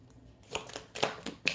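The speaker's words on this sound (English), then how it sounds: "Shuffle the cards." Tarot cards being shuffled in a few quick, crisp riffling bursts separated by short pauses, close and fairly quiet, with no talking.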